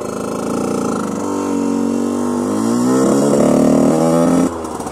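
A Derbi GPR 50cc motorcycle with a Conti exhaust starts up close by and runs loud, its buzzing two-stroke note rising as it revs before dropping off at the end.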